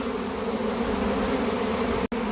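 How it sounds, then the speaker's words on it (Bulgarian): A honey bee swarm drones steadily around an empty hive box baited with lure, a loud, continuous buzz of many insects close by with a brief cutoff near the end. "Пчели навсякъде."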